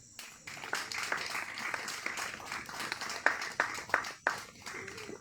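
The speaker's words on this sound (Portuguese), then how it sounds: "Jesus merece um aplauso." Scattered, modest clapping from a small group at a thanksgiving worship service held in a home, uneven individual claps under faint background murmur, fairly quiet and close.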